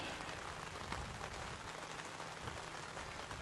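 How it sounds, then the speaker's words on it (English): Steady rain falling on a baseball field during an early-season game, an even hiss of drops spread evenly throughout, with no voices. "Players working through the rain right now."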